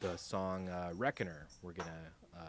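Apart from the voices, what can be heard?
No everyday noises stand out.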